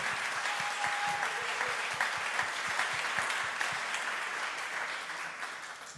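Audience applause fills a church hall during a worship service, a steady wash of many hands clapping for the full length with sharp individual claps standing out; a brief tone sounds early on.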